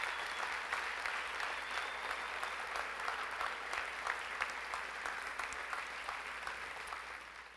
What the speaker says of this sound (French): Merci de les applaudir chaleureusement.